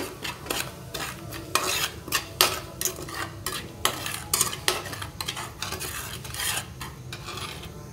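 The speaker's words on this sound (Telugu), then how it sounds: "ఈ మసాలాలన్నీ మనం ఇలా ఫ్రై చేసుకోవాలి, అన్నీ బాగా కలిసేలాగా" Masala spices for chole fry and get stirred in a pan, with repeated sharp scrapes and clinks of a metal spoon over a low sizzle in an uneven rhythm.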